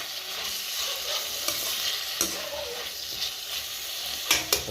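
Vegetables sautéing in a pan for a spicy yam curry, a constant bright sizzle under regular spatula scrapes and a few sharp taps, near and moderately loud, with no voices.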